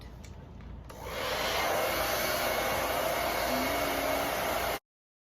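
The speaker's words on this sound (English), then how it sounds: "I'm gonna flip all my hair this side and dry it that way" A hair dryer fitted with a diffuser drying thick curly hair, switching on after a second of quiet to a steady, loud, close whoosh that runs evenly before cutting off abruptly.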